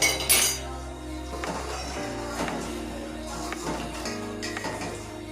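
Metal spoon clinks against a pan while sugar is stirred to dissolve for Eid methi seviyan kheer, giving a few close, bright taps over a steady low background hum.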